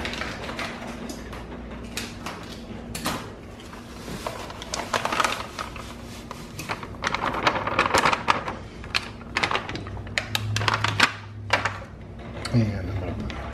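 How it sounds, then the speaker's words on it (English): Scissors snip and crinkle through a Betty Crocker pumpkin bar baking mix pouch in a kitchen, a string of close, sharp cuts and rustles, with a little talk. "So I'm gonna use scissors."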